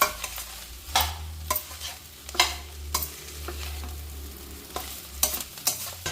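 Betel leaf rice being stirred in a pan with a little oil and ghee, the spoon scraping in repeated strokes over a low steady sizzle, close and alone.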